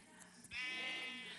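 A sheep in Minecraft (Pocket Edition) lets out a single drawn-out bleat after a few soft clicks and thumps, close and clear, lasting about a second.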